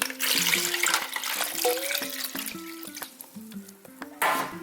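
Bottled water pours into a cooking pot holding rinsed Manila clams for steaming, a close, continuous splashing gurgle with shifting pitch that swells briefly near the end.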